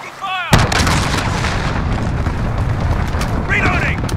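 Cruise missile strike and heavy gunfire in the Call of Duty: Modern Warfare video game: a sudden loud blast followed by sustained rumbling booms and rapid shots, with a brief voice before the impact and again near the end.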